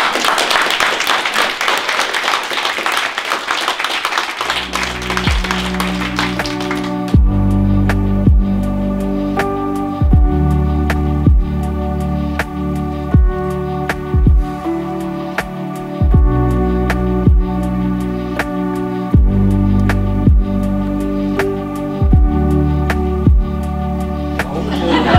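Audience applause for a woman at a benefit event at the Koblenz animal shelter, a dense wash of clapping for a few seconds before music with steady beats takes over.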